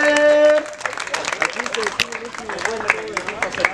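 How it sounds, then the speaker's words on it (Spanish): Crowd at a Spanish-language freestyle rap battle claps and cheers after a round ends; a sustained tone cuts off early, then scattered claps and whoops mix with voices talking over them. "¡Que un aplauso, brother!"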